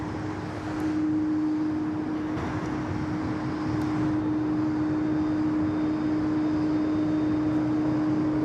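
Jetstar jet airliner departing Sydney Airport, a steady loud engine roar with a sustained whining tone, held evenly throughout with no voices.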